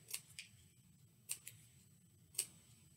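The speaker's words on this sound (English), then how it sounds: "I'm going to just slice off the corners and then cut out a little zigzag" Scissors snip through paper while cutting corners and a zigzag for a snowy owl craft's feet, three quiet, separate crisp cuts with short gaps between them, close by in an otherwise quiet room.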